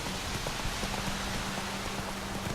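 Daytime rain falling in The Witcher 3, a steady hiss of drops pattering on surfaces, continuous and even.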